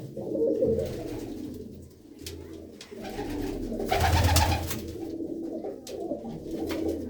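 Pigeons coo steadily in soft, low, rolling calls, several birds close together, with a brief flutter of rustling partway through.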